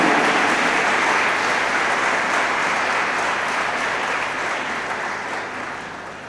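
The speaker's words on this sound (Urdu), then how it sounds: "زوردار تالیوں۔" A church congregation at Easter Sunday Mass in St. Francis Catholic Church, Lahore, gives loud, thick applause, a continuous roar of many hands that holds strong and then gradually fades.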